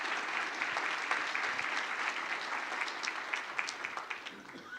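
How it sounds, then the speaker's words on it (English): Conference attendees at an energy forum applauding their sponsors, a continuous bed of many hands clapping at moderate distance that stays even, then thins and grows slightly sparser toward the end. "please give a round of applause to our sponsors and thank them"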